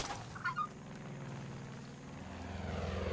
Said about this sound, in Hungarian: Van megint egy repülő.